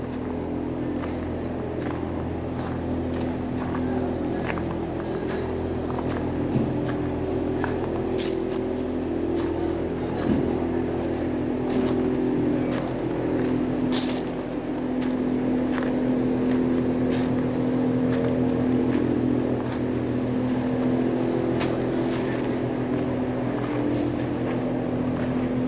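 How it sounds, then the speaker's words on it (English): A John Deere two-cycle diesel engine fitted with a big GM-type supercharger runs steadily at an engine collection, a low, even drone with scattered clicks and knocks layered over it. "So John Deere 2-cycle diesel. You can see that big GM Brutes type supercharger"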